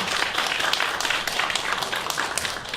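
A ceremony audience at the Incheon Namdong Cultural Center's 20th anniversary event gives loud, continuous applause to welcome a guest. It is a thick, even wash of many hands clapping at once, close and sustained, with no voice over it.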